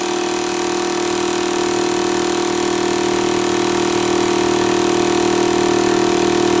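Ridge Rider 4WD tyre pump running continuously, a loud, close, steady motor drone with a constant mechanical hum and no breaks.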